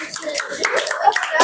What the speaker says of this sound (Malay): Beri tepukan yang paling gemuruh untuk kumpulan ini.